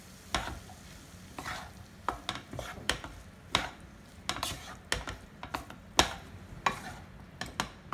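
A spoon stirs corn chaat seasoned with black pepper and salt, giving a string of close, light scrapes and taps in an uneven rhythm with no voices.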